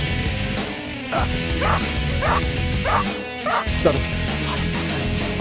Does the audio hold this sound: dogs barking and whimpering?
yes